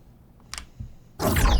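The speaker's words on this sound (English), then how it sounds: "this right here is just one of the Sci-Fi impacts," A tightly cut sci-fi impact for a sniper rifle design: a few faint clicks, then a sudden loud, bright full-range hit that stays dense and sustained to the end, alone without talk.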